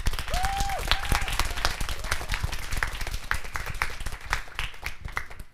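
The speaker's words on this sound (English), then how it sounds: "So a big round of applause for the 5 exhibition groups." An audience at a school exhibition event claps steadily and loudly for the five exhibition groups, a dense sustained round of applause with a brief whistle near the start.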